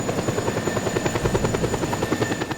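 Military helicopter in the video game Just Cause 2, a steady rapid rotor thump with an engine whine, loud and close throughout.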